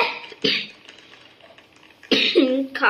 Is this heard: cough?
yes